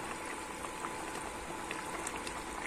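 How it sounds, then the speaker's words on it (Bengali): Hilsa fish curry with eggplant bubbling in a pot, a steady close, soft simmering hiss with small popping bubbles, alone without voices. "এইভাবে কিন্তু 1 মিনিট আমি কিন্তু ফুটিয়ে নেব"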